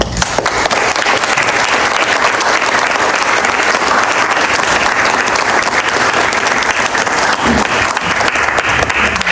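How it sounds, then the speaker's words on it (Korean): A large church congregation applauds continuously at an anniversary ceremony, a dense wash of clapping that stays loud and steady from start to finish. "이 시간에 박수로 격려해 주시면 감사하겠습니다"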